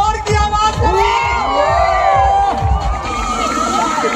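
A crowd cheers and whoops at a supercross bike race in an outdoor stadium in Raipur, loud and continuous, with shrill shouts and rising engine-like whines over a rhythmic low rumble and babble.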